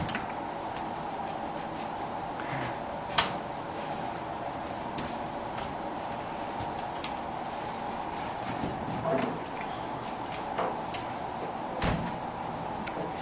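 A mobile home front door being swung around during measuring, with scattered knocks, clunks and a few sharp clacks over quiet room background, and no voices.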